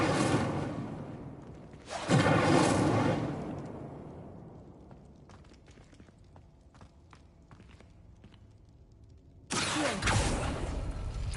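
Two bursts of the Incendio fire spell in the video game Hogwarts Legacy roar out as loud whooshing blasts. The first fades into quieter clicks and rustles before the second surge erupts near the end.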